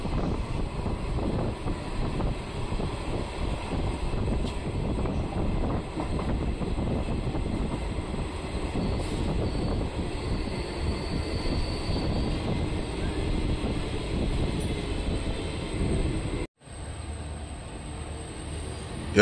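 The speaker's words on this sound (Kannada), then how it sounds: "ಎರಡು ನಿಮಿಷ ಸ್ಟಾಪ್ ನಂತರ ನಮ್ಮ ಟ್ರೈನ್ ತರೀಕೆರೆಯಿಂದ ಹೊರಟಿದೆ" Kuvempu Express pulling out of Tarikere station after a two-minute halt, a steady rumble and rattle of carriages with wind buffeting, heard from on board, dropping abruptly near the end.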